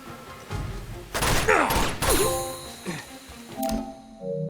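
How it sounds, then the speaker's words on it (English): Gunfire from the video game Uncharted 2 plays as several rapid bursts of shots with clanks and impacts, mixed with game effects. "killing 20 enemies with gunfire while hanging"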